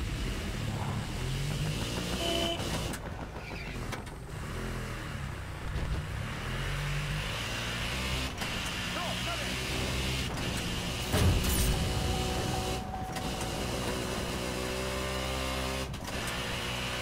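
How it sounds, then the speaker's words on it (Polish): Motorbike engine in the Battlefield Hardline video game, a continuous revving drone that rises and falls in pitch across the clip, with other game noises mixed in. "Chodź na motor. Na motor!"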